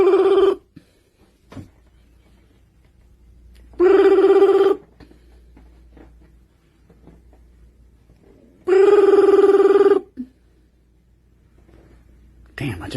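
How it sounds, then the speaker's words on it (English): A telephone rings twice in a quiet room, each ring a loud burst lasting about a second, with a short soft tap just before the second. "It all started with a phone call."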